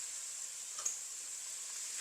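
Spices frying in a pan for Sri Lankan-style prawn fried rice give a faint, steady close-up sizzle with one small tick partway through and no voices.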